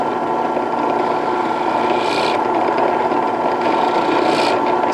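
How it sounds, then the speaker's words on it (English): A Forstner bit drills steadily into wood in a shop, giving a continuous, close, whirring cut with a steady grind throughout. "So find a Forstner bit that works for you."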